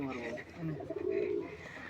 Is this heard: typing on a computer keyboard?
no